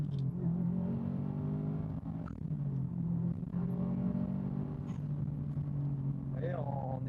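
A tuned Subaru WRX STI with Prodrive styling, 370 horsepower and stage 2++ work, drones steadily from the cabin while driving on the road. The engine holds a low, even pitch under quiet talk.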